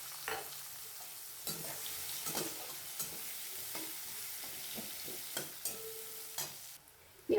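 A large chopped onion fries in oil with panch phoron for a Bombay duck fish curry, giving a steady sizzle broken by regular scraping strokes of a spoon against the pan.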